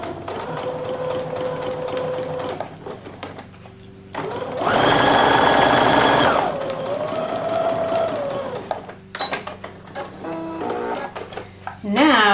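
A home sewing machine runs an edge stitch at 2.5 stitch length, a loud whirring burst of a few seconds between quieter handling noises and talk, with clicks and short mechanical hums around it.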